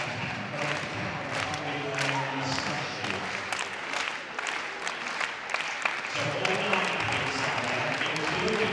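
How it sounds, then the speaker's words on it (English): A stadium crowd at a university athletics championship claps rhythmically for a high jumper before his attempt, a steady spread of applause heard at a distance over a commentator's talk. "Rory Dwyer looks to get the crowd going."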